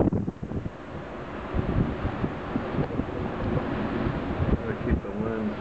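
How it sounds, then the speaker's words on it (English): Hurricane Igor's gusts roar through an open front door on a hilltop in Southampton, Bermuda, a loud, continuous rushing wind with surging buffets and microphone rumble throughout. "We're definitely getting some gusts, probably near 100 miles per hour up here on the hill."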